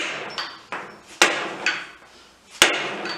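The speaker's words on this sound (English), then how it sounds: "Just a couple good whacks." Five sharp metallic hammer whacks at irregular intervals during a Toyota 7.5 IFS differential rebuild with a Spartan locker, loud and close, each ringing briefly before decaying.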